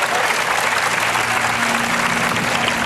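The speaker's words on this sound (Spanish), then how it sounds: "La gente aplaude asustada." A large crowd at a political speech applauds loudly and steadily, a dense continuous wash of clapping that fills the whole stretch with little else audible.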